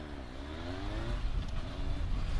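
A motorcycle makes a dynamic start on flat ground, its engine revving and pulling hard as it accelerates up into second gear, heard fairly close and steady throughout.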